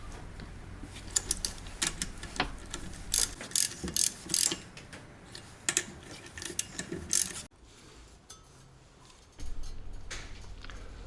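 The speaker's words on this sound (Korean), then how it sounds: "윌러그 넛은 먼저 손으로 다 체결한 다음에 공구를 이용해서 하나씩 조아 나가면 됩니다." Hand tool tightening the wheel lug nuts one by one on a 1998 Toyota RAV4, with rapid ratcheting clicks in repeated bursts, close and fairly quiet, followed by a quieter stretch and some handling noise.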